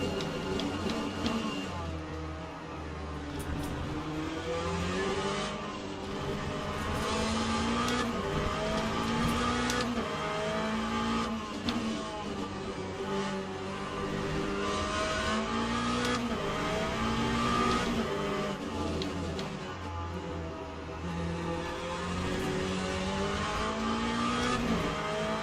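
Several race cars from Assetto Corsa, including a BMW, Cadillac and Porsche, sweep past one after another in a steady roar of engines revving and shifting, loud and continuous throughout.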